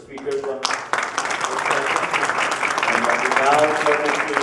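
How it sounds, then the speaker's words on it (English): Audience applause for the speakers closing a conference session on the question of Palestine, a broad, steady clatter of clapping that swells and holds, with some voices mixed in. "let's have a round of applause for the speakers from this session"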